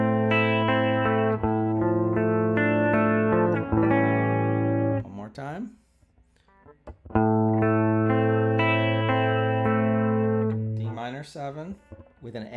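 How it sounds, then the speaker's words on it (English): Sustained electric guitar notes with effects and reverb ring out loud and alone, closing the last measure; a long held phrase fades to near silence, then a second sustained phrase swells and resolves with a final flourish. "So if I play the last measure of this part, it would sound like this."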